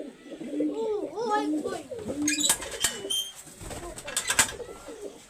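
Prize-breed racing pigeons cooing close by in a Punjabi loft, repeated soft rolling coos in the first seconds, then someone talking over clicks and shuffling noises.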